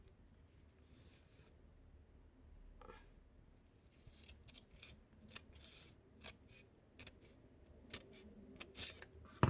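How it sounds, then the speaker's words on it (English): Scissors snip through folded paper while cutting the wings of an F-15 Eagle paper airplane, a series of quiet, crisp cuts that grow more frequent toward the end, heard close up over a faint background with no talking. "I cut this. And then I cut the other side as well."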